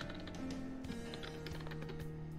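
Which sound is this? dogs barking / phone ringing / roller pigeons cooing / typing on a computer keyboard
typing on a computer keyboard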